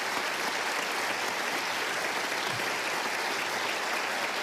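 A studio audience at a Dr. Phil talk show applauds in a thick, even wash of clapping that holds at a constant level throughout, with no voices rising above it.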